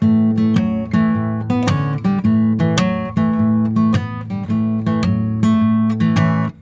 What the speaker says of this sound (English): You can hear him hit his hand down on the guitar